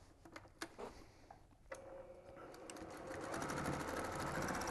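A sewing machine runs a basting stitch on a workshop apron, starting after a few soft ticks and clicks and then building into a steady, moderately quiet whir that continues to the end.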